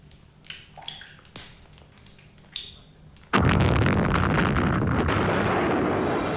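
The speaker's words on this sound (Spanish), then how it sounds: "El polvorín vuela por los aires." A powder magazine blows up in a First World War battle at Verdun: scattered sharp pops and knocks give way to a sudden massive blast and a sustained roaring rumble that fills the rest of the clip.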